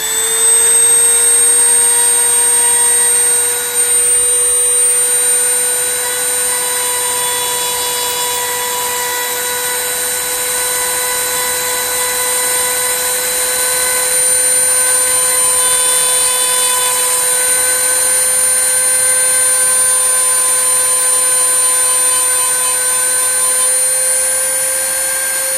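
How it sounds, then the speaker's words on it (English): A buffing wheel spinning at high speed while polishing a guitar part with polishing compound produces a loud, steady motor whine that holds for the whole stretch, a constant high-pitched hum with slight shifts in pitch and no speech. "in the kit they give you a almost like a buffing wheel and some polishing compound"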